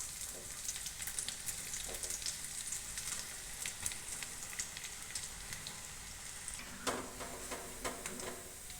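Onion bhajiya batter crackles in hot oil as small portions are dropped in, a soft, fairly distant bubbling sizzle with scattered pops and a brief louder burst near the end, with no voices.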